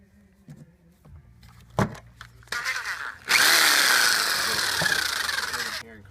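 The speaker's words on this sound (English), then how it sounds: "And we'll plug in the jigsaw." A corded jigsaw buzzes into a loud cut after some handling clatter and short bursts, then runs steadily for a few seconds, with speech nearby.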